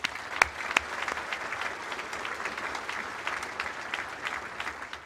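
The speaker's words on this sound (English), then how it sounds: "Let's give them all a round of applause." At an Armed Forces Day luncheon, guests give a moderate round of applause, a steady patter of clapping from a room of people with a few sharper claps standing out early on.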